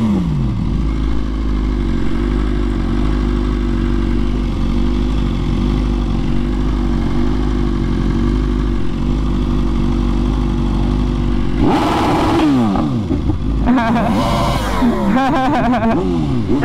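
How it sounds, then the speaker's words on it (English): A sport motorcycle engine drones steadily up close, then revs in two rising and falling sweeps near the end. "Oh, that's a sport bike."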